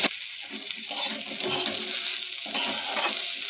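Neem leaves and chopped brinjal frying in a pan, a steady bright sizzle with scraping stirring strokes that come and go, close and moderately quiet, no talking.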